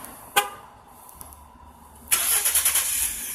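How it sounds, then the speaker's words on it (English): A 2011 Ford F-150 EcoBoost Lariat starts by remote start: after a faint click and a quiet pause, the engine suddenly fires up nearby with a short horn chirp and settles into a steady idle. "Again, remote start."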